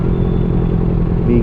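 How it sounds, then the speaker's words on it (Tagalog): Big bike motorcycle engine on a road in General Trias, Cavite, a loud, close, steady low rumble with a throbbing idle-like pulse throughout. "The big bike ang tunog."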